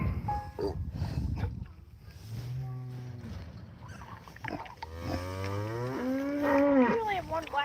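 Cattle on a farm mooing while being hand-fed, several loud, drawn-out moos close by with short pauses between calls and no talk.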